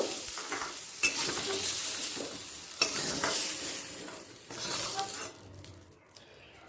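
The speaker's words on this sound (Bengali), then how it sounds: "আলুগুলো লাল করে ভাজা হয়ে গেছে এবার অন্য পাত্রে তুলে নেব" Fried potatoes being lifted out of hot mustard oil in a kadai, with loud bursts of sizzling and scraping spatula strokes that come in waves and fade toward the end.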